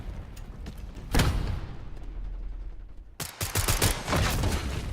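Video-game gunfire crackles in dense bursts of rapid shots, a heavy volley near the start, a brief lull, then sustained sharp firing again, loud and close with no voices.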